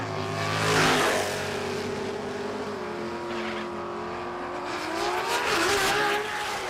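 A drag racing car with an 8-speed gearbox launches off the line at Warwick Dragway, Australia, its engine roaring loud and near then shifting and fading as it pulls away, with a fresh surge toward the end.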